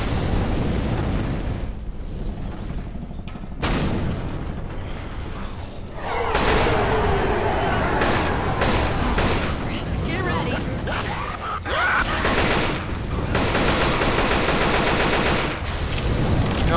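Game gunfire from Left 4 Dead 2, loud bursts of automatic weapon shots and blasts that run almost without pause, mixed with excited talk from players throughout.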